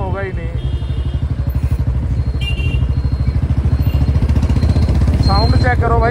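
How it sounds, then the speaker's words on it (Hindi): A Royal Enfield Bullet Standard BS-6 motorcycle, a 2022 model, idles close up with a loud, regular thumping single-cylinder beat, steady throughout as someone talks briefly over it. "साउंड चेक करो भाई, बाइक की मस्त साउंड आ रही है बिल्कुल।"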